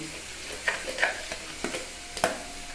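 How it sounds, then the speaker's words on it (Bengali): Sattu dry-fried with amchur powder and Kashmiri chili powder in a pan for stuffed paratha, with a spoon scraping and knocking against the pan in several separate strokes. "এইবার আমি এর মধ্যে ছাতুটা এই মশলার মধ্যে একটু হালকা করে গরম করে নিচ্ছি মানে ভেজে নিচ্ছি"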